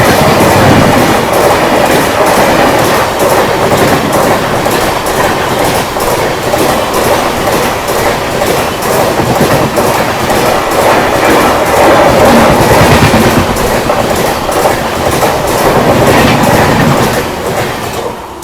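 Tirupati–Chikkamagaluru Express 17423 on its first run, its coaches rolling past loud and close with steady clickety-clack of wheels over rail joints for the whole stretch, a continuous roar that eases slightly at the end.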